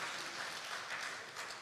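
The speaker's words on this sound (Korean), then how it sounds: "우리 박수로 한번" A Korean church congregation at a Sunday afternoon worship service claps together, a short burst of even, continuous applause heard alone.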